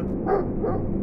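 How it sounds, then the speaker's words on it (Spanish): A single dog gives a short muffled bark, fairly close and moderately loud, against a low background rumble in a brief burst. "El eco de sus intentos se mezclaba con los ladridos de Pancho y el zumbido lejano de un coche que cruzaba la avenida"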